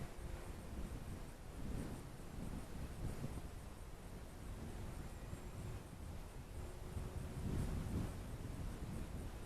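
Wind gusting across an open model plane flying field where a small 800mm EPP Yak54 aerobatic 3D plane is flown, a steady broadband rush with stronger low buffeting swells near the start and again toward the end, no voices.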